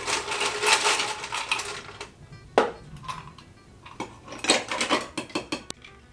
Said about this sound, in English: Add a little ice